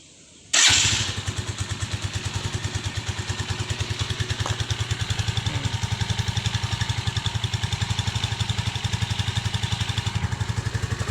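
A tuned motorcycle engine starts abruptly, then settles into a steady, close idle with an even, rapid thumping pulse that continues without talk.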